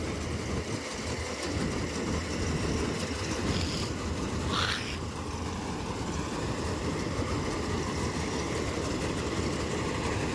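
A John Deere 5405 4x4 tractor, used with a maize threshing machine, runs with a steady, loud, low engine drone that holds unchanged throughout, with a faint higher squeal briefly rising near the middle.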